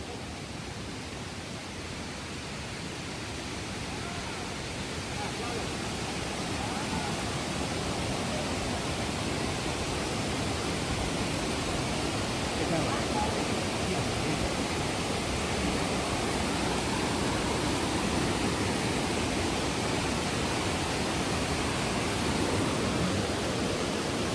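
Sherman Falls and its stream in Hamilton rush with a dense, steady roar of falling water, close and loud, swelling slightly and holding constant without pause.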